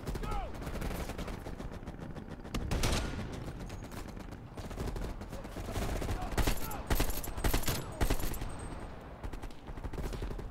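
Machine gun fire in the video game Call of Duty: Cold War, heard as long, dense automatic bursts and heavy impacts that continue almost without a break, with a voice heard briefly amid the shooting.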